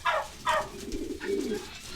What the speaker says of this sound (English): They are just very exotic birds.